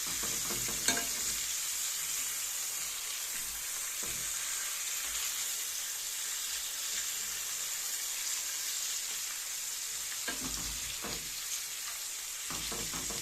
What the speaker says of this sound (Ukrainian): І так смажиться.